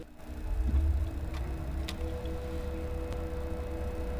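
A wireless-charging electric bus idles with a low, steady hum much like a refrigerator, quiet and constant, with a few faint ticks and clicks over it.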